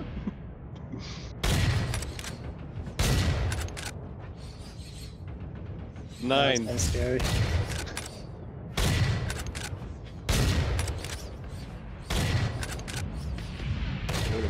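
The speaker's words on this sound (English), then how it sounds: "Oh, I hear that gunfire." Bursts of gunfire crackle in the Starbase space-building game, rapid repeated volleys recurring every couple of seconds alongside game noise, with a player talking briefly over them.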